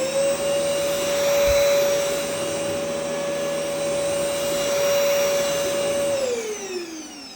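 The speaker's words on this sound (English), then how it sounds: "I'll show you the back of the brush as you turn it on. You can see both the brush rotating as well as the light turning on." A HOMPANY cordless vacuum cleaner runs with its rotating brush, a steady high motor whine with a bright tone that holds, then drops in pitch as the machine powers down near the end. No voices.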